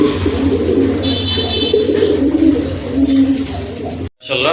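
A pair of Rajgolla pigeons, sky-blue in colour, coo steadily at close range, a low throbbing murmur with scattered higher chirps above it, going on without a break until a short gap near the end.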